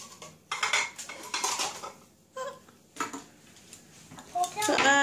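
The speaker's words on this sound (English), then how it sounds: "So I am trying to tidy up dinner dishes." Dinner dishes are tidied up in a home kitchen, with repeated clattering of plates, pots and cutlery in close bursts, while a voice chatters and whines in between.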